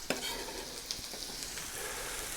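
Chopped onion sizzles steadily in a very hot Dutch oven on a Kamado grill, a dense continuous hiss with a few brief sharp crackles, close and fairly loud, no talking.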